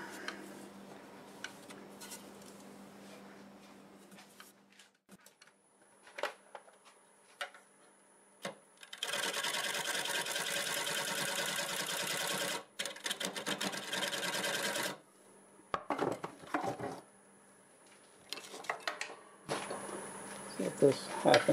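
Cherry wood turning on a wood lathe with a half-inch gouge, giving a dense, steady buzzing cut that runs for several seconds in the middle. Shorter scraping bursts come before and after, with a person talking between cuts.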